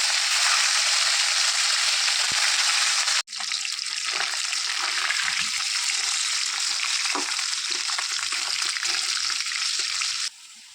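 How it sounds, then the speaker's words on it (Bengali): Fresh pond fish, salted and coated with turmeric, frying in a pan with a loud, steady hissing sizzle that briefly cuts out, resumes with crackles and ends abruptly. "এখন মাছগুলোকে আমি ভালোভাবে মাখিয়ে ভেজে নেব"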